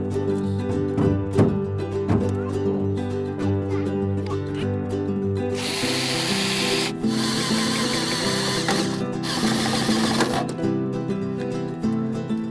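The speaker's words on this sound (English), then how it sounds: "Just gonna measure it out and figure out where this goes and try to drill a hole." A power drill grinds through material while drilling a hole for boat navigation lights, in a few sustained bursts, loud and harsh, over steady background music.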